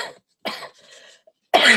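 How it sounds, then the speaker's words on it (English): Two or three harsh coughs, close and loud, separated by short pauses. "As you can see, I'm still coughing."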